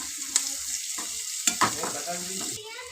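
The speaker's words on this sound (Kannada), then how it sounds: "ಇದನ್ನು ಫ್ರೈ ಮಾಡ್ಕೊಳ್ಳೋಣ" Chutney with turmeric and salt fries in a pan, giving a steady soft sizzle broken by a few sharp clicks from stirring. No one speaks.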